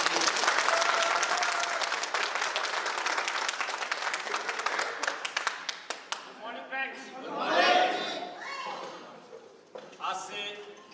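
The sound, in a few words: audience applause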